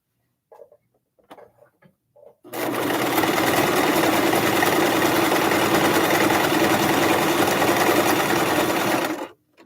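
A sewing machine runs a long straight stitch on a tufted pillow with the zigzag width set to zero, starting after a few soft handling clicks and then droning steadily and loudly, close by, until it stops abruptly.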